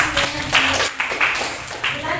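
Students clapping in an Indonesian classroom, a few loose rhythmic bursts of hand claps at moderate distance, mixed with voices talking over them.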